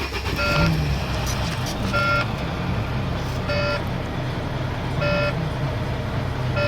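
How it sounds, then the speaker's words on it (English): A heavy diesel truck, parked and run through a safe start during a CDL in-cab air compressor check, idles with a steady loud rumble while a reversing-style beep warning sounds at regular intervals. "To do this, I will safe start the truck."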